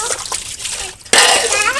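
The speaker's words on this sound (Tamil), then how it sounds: "ஆயா வந்து கழுவ ஆரம்பிச்சிட்டாங்க" A grandmother washes dishes with water at home; soft sloshing gives way to a sudden louder splash and pouring of water partway through, close by, with faint voices in the background.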